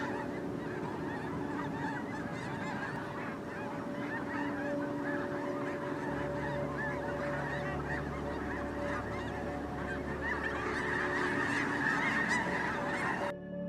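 A large flock of wild geese honks continuously, many overlapping calls near and far, with a low engine-like hum entering partway through.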